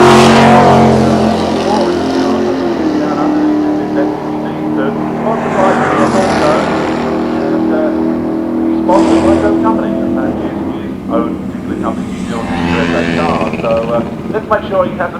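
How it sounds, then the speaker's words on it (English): A Buick GS with a 455 cubic inch engine makes a drag racing run at Santa Pod in 1990, its loud engine roar rising and surging over the whole stretch with a commentator talking over it. "Well, it's a Buick GS, 455 cubic inches."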